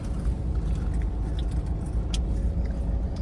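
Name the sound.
heavy road traffic, cars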